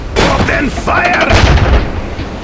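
Booming gunfire during a castle siege in the Heroes and Castles video game, loud continuous blasts and rumble layered with distant shouting voices.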